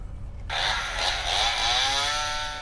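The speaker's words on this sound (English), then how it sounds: "Chainsaw." A chainsaw effect from a zombie-fighting board game kicks in after a brief pause and buzzes steadily and loudly for about two seconds, with no talking over it.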